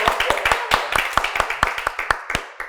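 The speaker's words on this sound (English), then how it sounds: "let's clap it up" A few people clapping up close in a podcast studio, sharp distinct hand claps in an uneven, quickening rhythm, loud and dry with no talking over them.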